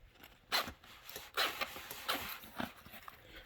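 A zipper on a pistol case is pulled open in several short quick bursts, close and fairly quiet, with small handling noises between the pulls.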